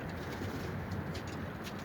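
Soft pigeon cooing under a steady, loud background rumble, faint and continuous.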